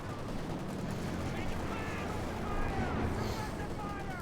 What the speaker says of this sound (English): Shot fired there as well